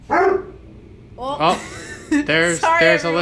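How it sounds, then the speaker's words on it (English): A pet dog named Chester barks several times, sharp yips and bow-wows close by, mixed with people talking over and between the barks. "That's my dog"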